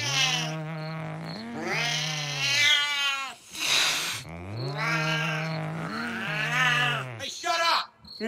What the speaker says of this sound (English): This is the stupidest thing he's done since he got in a turf war with that cat.